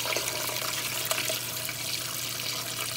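Turkey brine poured into a container: a steady, continuous gush of liquid splashing for the full three seconds, close and fairly loud, with no talk over it.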